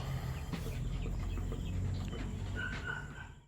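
Chickens in a coop at night cluck and murmur softly, several birds heard at a moderate distance over a steady low background hum, with occasional sharper calls.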